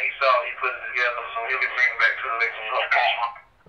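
A voice transmission picked up on a Radio Shack Pro 668 digital scanner, heard as narrow, tinny radio speech in clipped bursts that cuts off abruptly.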